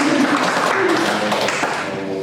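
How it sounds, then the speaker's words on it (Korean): A quiz show audience breaks into steady, dense applause that fills the room for a couple of seconds, with faint voices mixed underneath. "박수 부탁드립니다"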